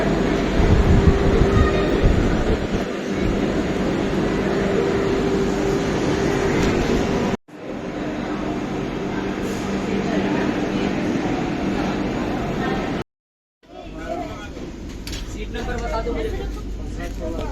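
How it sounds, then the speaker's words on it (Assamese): Inside a Vande Bharat train, a steady rumble of the moving carriage and air conditioning fills the space, cut by two brief gaps, with people talking throughout. "বন্দে ভাৰতত আপুনি ট্ৰেইনখন চাব পাৰে"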